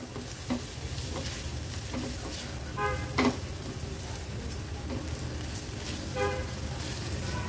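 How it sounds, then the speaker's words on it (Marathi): Turmeric and Agri Koli masala sizzle in hot oil with steady frying hiss and occasional stirring scrapes, while a car horn toots twice somewhere in the background. "हळद आणि मसाला तेलावरच छान परतून घ्यायचा आहे।"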